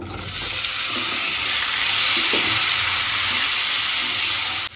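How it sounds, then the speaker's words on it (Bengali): Lightly boiled potato pieces frying in hot oil in a kadai, a loud, dense and steady sizzle heard close up and unbroken throughout, with no talking. "এবার আমি ওই হালকা সিদ্ধ করা আলুটাও ভেজে নেব"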